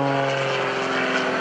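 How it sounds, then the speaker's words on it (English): Propeller engine of an aerobatic airplane performing at a lakeside airshow, a steady loud droning hum with no pauses. "It's the engine keeping that airplane in the sky right now."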